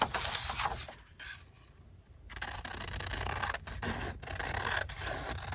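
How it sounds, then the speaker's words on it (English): Scissors cut through paper for a nature journal, giving a close, steady run of snipping and scraping with a short pause partway through and no talk. "Let me go ahead and cut this out."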